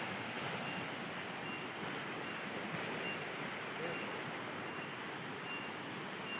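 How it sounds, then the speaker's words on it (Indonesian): Steady broadband rush of water at a spring below the Cuban Waru waterfall, a continuous even roar with no breaks, close and moderately loud. "ini kita sudah sampai di mata air yang kedua, yang dari air terjun Cuban Waru"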